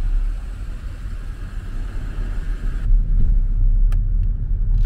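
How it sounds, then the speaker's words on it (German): A car rolls slowly through a barrier gate into a golf resort in Gran Canaria, heard from inside as a steady low road rumble and engine hum that swells slightly near the end, with a faint click or two. "So, wir fahren jetzt hier durch die Schranke in Salobre Golf."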